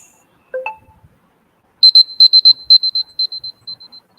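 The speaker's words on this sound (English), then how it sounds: "after 13 minutes, there will be a buzzer which will sound something like this" A presentation time-up buzzer at a final presentation event sounds a rapid series of about a dozen short, high electronic beeps that fade toward the end, preceded by a brief soft tone.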